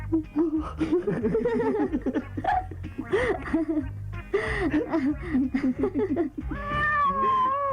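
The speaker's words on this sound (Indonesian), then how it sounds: "Aku tidak sangka kau senang kucing, Vin" A cat meows again and again nearby, rising and falling cries that sometimes stretch into a caterwaul, mixed with people talking and laughing in an indoor scene from an Indonesian comedy-drama film.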